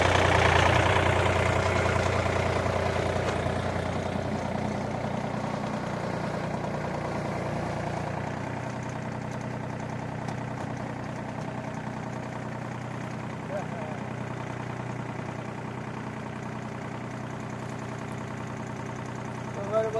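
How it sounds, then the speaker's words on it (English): A tractor engine idles in a field during fall plowing, a steady low diesel rumble that drones on evenly throughout at moderate loudness, with no clear talk over it. "A runaway tractor right there."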